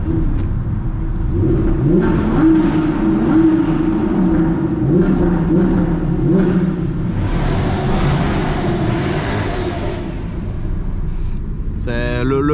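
A car engine revs in neutral, humming steadily at close range, rising and falling, with a brief clatter near the end.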